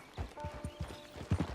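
Horse hooves clip-clopping at a walk in the video game Red Dead Redemption 2, a steady rhythm of distinct hoofbeats, fairly close and moderately loud, with no talk.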